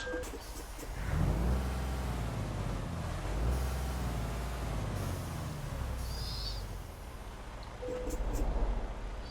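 A Mercedes-Benz Travego 16 SHD bus engine idling and revving in Euro Truck Simulator 2, a low steady rumble that swells and eases several times.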